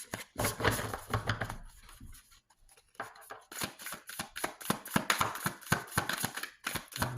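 A deck of playing cards is shuffled at a table: rapid riffling and flicking bursts in close, irregular clusters that go on for several seconds, with a brief quieter pause in the middle.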